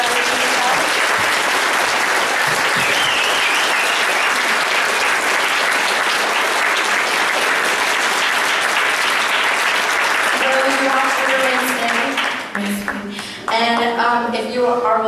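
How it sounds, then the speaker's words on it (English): A congregation claps steadily for teachers at a coming-of-age service, a sustained wash of applause that thins near the end as a voice begins speaking over the last claps. "Can we please give these teachers a round of applause for everything they've done?"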